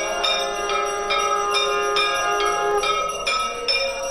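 Temple bells ring during a Navratri aarti at the Gorakhnath temple, struck in a rapid, even rhythm with bright, sustained metallic tones that layer into a continuous clangor, close and loud, with no talking.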